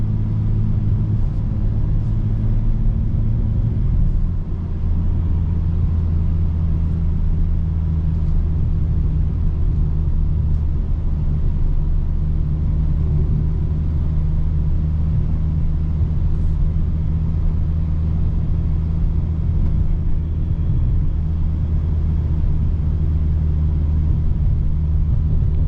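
Steady low engine drone of a 2025 BMW M4 Competition LCI while driving, heard from inside the cabin as a constant rumble with a shift in pitch early on and no talk.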